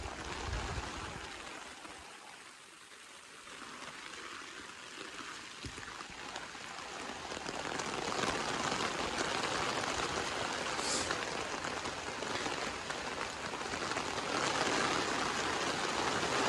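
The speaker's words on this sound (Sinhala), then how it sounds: "පොඩ්ඩක් හයියෙන් වහිනවා." Fairly heavy rain falls steadily outdoors in the hills around Nuwara Eliya, a dense continuous hiss that briefly eases, then builds louder and stays strong for the rest of the stretch, with no voices.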